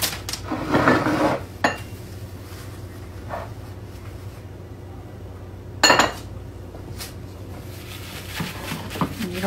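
A casserole dish is grabbed and set down in a home kitchen, making a clattering rattle of dishes at the start, a single clink shortly after and a firm knock on the counter a few seconds later, with quiet between.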